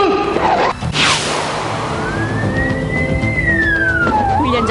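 Siren wailing across a military police training ground, a loud rising and falling tone that sweeps up and down over a whooshing background, continuous for the whole stretch with no voices.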